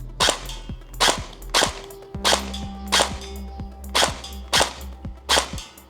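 A Sijun MP5 electric gel blaster toy gun fires in sharp, loud, close cracks, about eight evenly spaced shots in quick bursts, with a faint motor whir between some shots and no talk.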